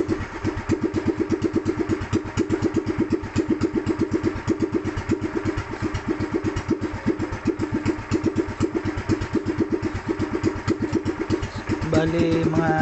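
A Sumo 15 HP boat engine runs steadily after maintenance for lost compression, a loud continuous rhythmic chugging that holds for the whole stretch with no voices over it.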